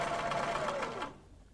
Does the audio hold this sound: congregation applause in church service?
no